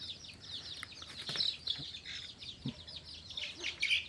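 Crossbred red junglefowl chicks, second-generation offspring of junglefowl parents, peep and chirp in quick, high, overlapping bursts at close range, with a few soft lower clucks and faint background noise.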